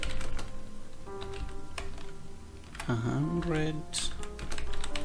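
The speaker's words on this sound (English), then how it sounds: "Let me type 100 milliseconds into seconds." Fingers tap on a computer keyboard in quick, scattered clicks at close range, mixed with a person talking.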